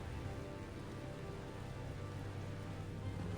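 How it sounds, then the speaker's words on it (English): Steady rain falling in Tales of Xillia, a faint, even wash of patter that stays constant in the background throughout. "It's starting to rain."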